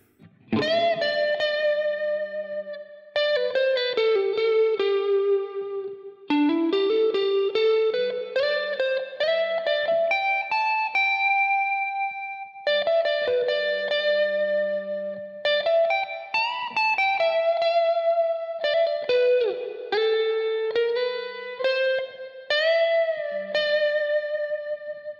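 Electric guitar played through a Line 6 Helix clean tone with a mid boost, setting up a Soldano lead sound, plays sustained single-note melodic phrases, close and loud, with light reverb and no talking.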